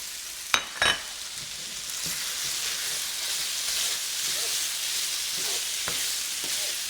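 Ginger and garlic fry in a hot pan for cashew chicken, giving a steady bright sizzle with a couple of sharp clatters of a utensil near the start and faint stirring scrapes later.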